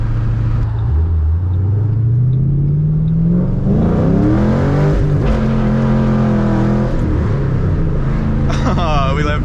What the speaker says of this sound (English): nothing gets my blood flowing like snagging second gear in a Mustang